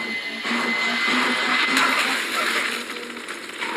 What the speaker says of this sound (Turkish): Şimşek de şimdi testereyi çalıştırmak için şimşek enerjisi lazım